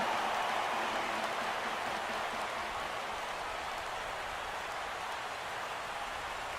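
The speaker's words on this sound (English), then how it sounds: "And this rain is intensifying now. This is as hard as it's come down all night." Heavy rain pouring down during a night MLB game between the Phillies and Mets, a steady dense hiss that fills the whole stretch without letup, with no voices over it.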